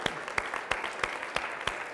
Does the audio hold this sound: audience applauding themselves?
yes